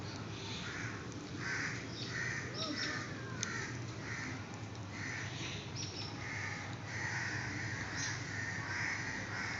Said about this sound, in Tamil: இந்த மைனா வந்து பயங்கரமாக கத்திக்கிட்டு இருக்கு